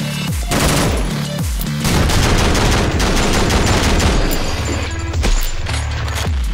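Explosions and rapid gunfire blast through a fast video game shootout, loud dense booms and crashing bursts packed closely together, with heavy low thuds repeating near the start and again near the end.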